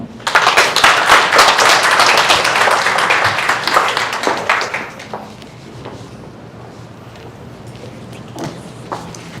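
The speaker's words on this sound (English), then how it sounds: "another round of applause for Karen, ladies and gentlemen" An audience at a conference claps loudly for a speaker, a dense burst of applause that fades after about five seconds into scattered claps and room noise.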